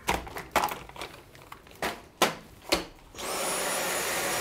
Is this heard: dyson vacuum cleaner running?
yes